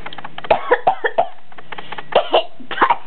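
A voice coughs repeatedly in a quick series of short, harsh bursts, a close and loud coughing fit with brief gaps between the coughs.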